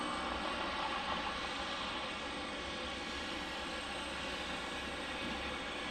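A Boeing 717 jet departing Detroit airport gives a steady, distant roar of engine noise, broad and continuous at a modest level with no voices.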